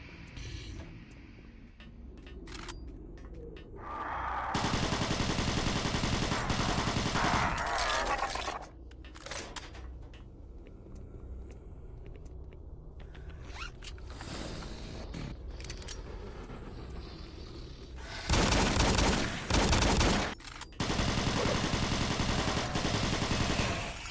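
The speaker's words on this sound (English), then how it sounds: "how good the plasma gun is against the revenants, because I can shoot down the missiles pretty quickly." The plasma gun fires at revenants in the Doom 3 Phobos mod: long buzzing streams of rapid shots come in sustained bursts, loud and close. Mechanical creaks and clanks sit between the volleys.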